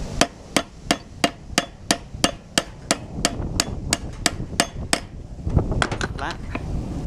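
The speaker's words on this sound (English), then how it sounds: "You can put on the vise or any flat surface and then tap it." Hammer blows tap a U-joint from a Toyota 4Runner or Tacoma resting on a vise, about fifteen sharp metallic strikes in a steady rhythm, close and loud, followed by a few scattered lighter taps and handling noise.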